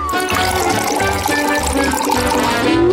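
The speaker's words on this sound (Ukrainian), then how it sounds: "Відправляємо все в миску та заливаємо молочком" Milk is poured into a bowl of small cereal flakes, a continuous liquid gush and splash close up lasting a few seconds.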